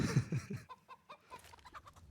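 A chicken clucks in the CS:GO Inferno map during an ESL Pro League match. A few loud, bursting clucks open the clip, followed by quieter, scattered clucks with short gaps between them.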